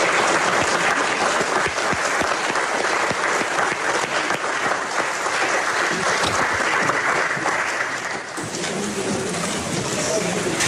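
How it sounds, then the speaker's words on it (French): A church congregation in Québec applauds a newly baptised person, dense and sustained clapping from many hands filling the room, easing briefly near the end before continuing, with voices faintly underneath. "On peut applaudir un nouveau baptisé."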